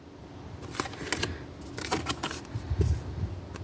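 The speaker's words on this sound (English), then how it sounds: "I've never shuffled a round deck." A round deck of playing cards is shuffled in several quick riffling bursts, crisp and close, with brief pauses between them.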